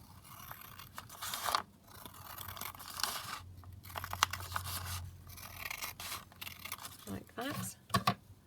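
Scissors cut paper into junk journal pages, with close, quiet snips and tearing scrapes in several bursts and pauses, a voice talking softly in between.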